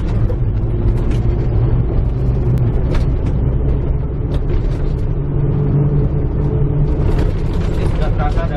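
A 4WD ambulance shifted from 2H to 4H drives at about 50 km/h, its engine and road rumble loud and steady inside the cabin with occasional rattles and clicks, while people talk over it.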